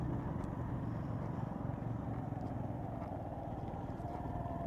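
A motorcycle engine pulls steadily uphill in second gear on a rural road in Jharkhand, a continuous low throbbing rumble held close and loud for the whole stretch with no talking.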